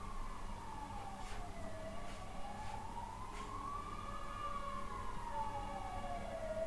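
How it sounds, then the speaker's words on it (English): An ambulance siren wails outside, its pitch sweeping slowly up and down in a long continuous cycle, fairly distant and steady, with no talking. "There was just another ambulance."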